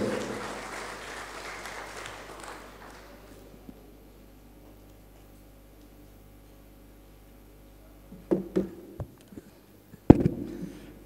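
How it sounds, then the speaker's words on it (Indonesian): An audience at a graduation ceremony of an Islamic boarding school applauds a speaker: a broad wash of clapping that fades away over a few seconds, followed by near silence and a few scattered thumps and clicks. "Boleh kita berikan tepuk tangan yang meriah untuk Bapak Dr."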